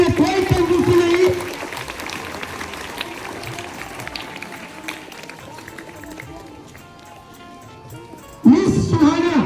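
Steady applause from a school audience at a Ramanujan Mathematics Day event as students are called up, running several seconds at moderate level between bursts of a voice talking at the start and end.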